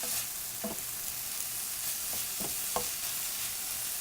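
Garlic cloves fry in a pan in a low, steady sizzle, broken by a few soft knocks from a utensil.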